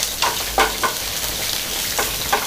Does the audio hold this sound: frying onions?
yes